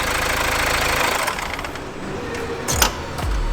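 A defective car still under warranty is restarted, and its engine runs with a rough, knocking idle close by before a few clunks and a brief surge, with no talk.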